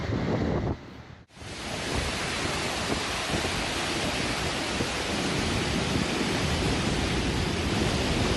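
Heavy rain falls in the Western Ghats foothills of Chikkamagaluru's coffee country, a dense, steady, close roar that begins abruptly after a brief quieter moment and keeps going without a break, with no voices.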